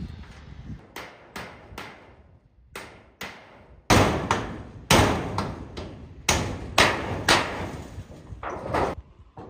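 Long nails being hammered into a wind-damaged cowshed roof during a quick patch job: sharp, ringing hammer blows come one at a time at first, then louder and faster in short clusters, close by with no talking.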